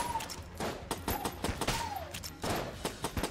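An explosion in the Enter the Gungeon video game comes amid rapid bursts of game gunfire, a cluster of sharp, loud blasts with brief whistling tones between them.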